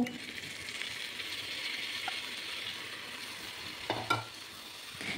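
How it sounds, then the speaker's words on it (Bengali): Rice and lentils being stirred and fried with spices in a cooking pot for khichuri, a steady soft sizzle with scraping stir strokes and a couple of sharper clinks near the end. "এবার চাল আর ডালটাকে খুব ভালো করে মশলার সাথে কষে নিতে হবে"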